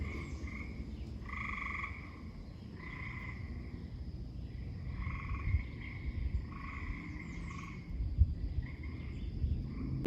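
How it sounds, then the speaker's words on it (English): Gray tree frogs trill in repeated pulsing bursts, a chorus overlapping at a steady rhythm over a low, rumbling outdoor background. "a simple page about listening to the tree frogs"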